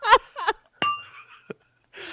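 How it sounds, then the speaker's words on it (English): A few bright clinking bell strikes ring out near and loud, each tone sustaining briefly, between bursts of people talking at the start and end. "Here's a 3-bell salute."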